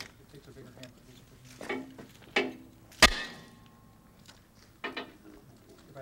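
Several sharp metallic taps of a hammer striking a metal stamp ring out one at a time against a quiet background, one strike noticeably louder and clearer than the rest.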